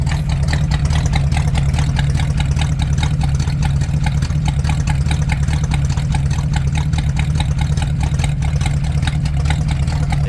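A mystery car with dual exhaust idles steadily, running a little rich without a choke; a loud, even, low rumble continues throughout with no talk.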